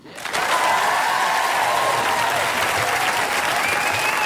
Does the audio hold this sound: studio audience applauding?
yes